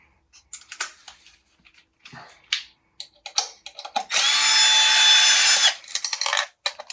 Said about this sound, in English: So let's take our screwdriver again with a standard Phillips head.